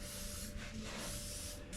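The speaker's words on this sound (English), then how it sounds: "take your best tool, WD-40. And spray everything down." WD-40 sprayed from an aerosol can onto the moving joints and pivot points of a dirt late model race car, a continuous close hiss broken by brief pauses, with no talk.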